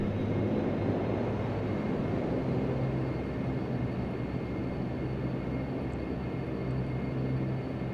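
Dash-8 Q400 turboprop engines in a flight simulator roar as the throttles come up, a dense, steady broadband rumble with a low drone that holds at an even level from start to finish.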